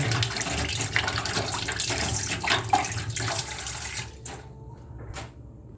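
Tap water runs steadily over brown cherry tomatoes being rinsed, a continuous splashing wash that carries on for several seconds before easing off, with a few brief splashes near the end.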